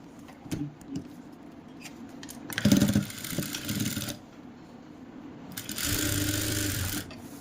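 A sewing machine stitches a kurti sleeve in two loud, close bursts of about one and a half seconds each. Quiet pauses and small handling clicks separate the runs, and no voices are heard.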